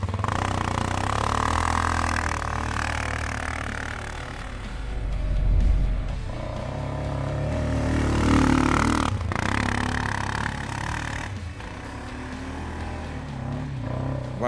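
A Sharmax QJ Motors Force 800 ATV drives through snow, its engine droning steadily nearby with clattering, a couple of louder low surges as the wheels spin, then a slight easing off.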